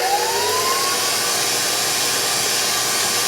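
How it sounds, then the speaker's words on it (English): An electric hand mixer whisks an egg into brownie batter, a steady, loud motor whine that rises in pitch as it speeds up, continuous with no talking. "We're going to add 1, and then we're going to whisk it so that it's incorporated."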